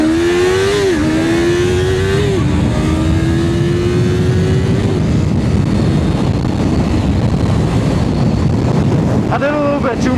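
A Yamaha R3 motorcycle accelerating hard from a standing start, loud engine rising in pitch through several gear changes, heavily buffeted by wind noise with no talking.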